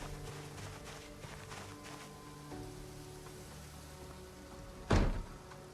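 A zombie trapped inside something knocks around in a video game, giving one heavy, sharp thud near the end over a quiet, low ambient hum, with a few faint bumps before it.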